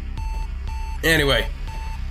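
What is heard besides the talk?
annoying beeping in the video game Axiom Verge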